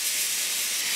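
A pressure cooker in a shared house kitchen hissing out steam, a loud, steady, close jet of hiss with no break.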